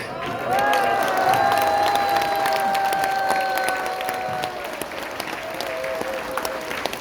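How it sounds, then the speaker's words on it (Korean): A standing audience at a church-led association meeting gives a long, loud round of applause, steady dense clapping that fills the room and slowly thins toward the end, with a few cheers. "일어서서 큰 박수로 보내주시기 바랍니다."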